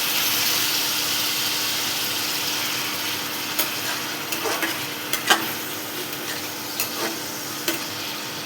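Two chopped onions fry in hot oil in a kadai for a desi chicken dish, a steady close sizzle broken by a few sharp clacks of a spoon stirring.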